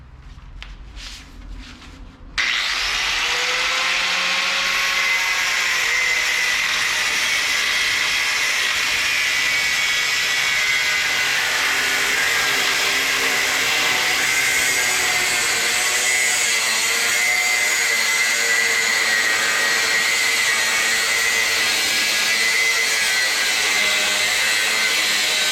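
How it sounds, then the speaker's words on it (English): Steady, harsh grinding from an angle grinder working on a nut on a Z71 shop truck, starting abruptly after a short quiet moment and running continuously and loud for the rest of the stretch. "Are we starting off with the grinder?"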